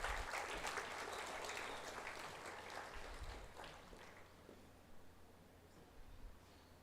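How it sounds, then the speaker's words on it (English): Audience applause at a graduation and awards ceremony, a broad wash of clapping that starts strong and slowly thins out over several seconds. "Let's give Atishta a round of applause"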